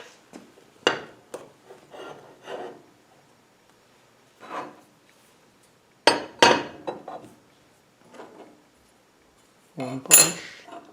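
A metal punch tapped against metal parts of a home-built wood lathe, giving scattered sharp clinks and knocks with quiet gaps between them.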